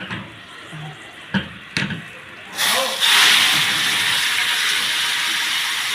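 Chili toasts in hot frying oil while koshari is being made. A few brief clatters and faint voices come first, then a loud, broad hissing sizzle rises and holds steadily to the end.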